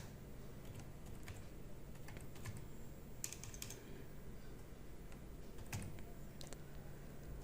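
A file name is typed on a computer keyboard in Notepad: a quick run of light, close key clicks over a faint steady background hum.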